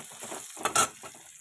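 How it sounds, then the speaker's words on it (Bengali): Bitter gourd (karela) frying in a pan, a soft continuous sizzle with a brief louder burst of crackling and stirring in the middle, close by and fairly quiet. "করলা ভাজাটা হতে থাকুক ততক্ষণে"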